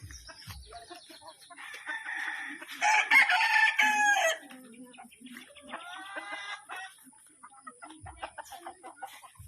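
Chickens cluck and a rooster crows loudly in the middle, with more clucking and scattered fowl calls around it, close by.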